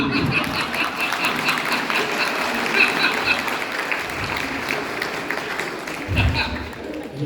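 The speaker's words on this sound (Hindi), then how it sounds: "हेमंत पांडे, तुम भी ताली बजाओ" Audience applause at a Hindi kavi sammelan poetry recital at a school in Sonipat, a steady wash of many hands clapping that holds for several seconds with voices murmuring underneath.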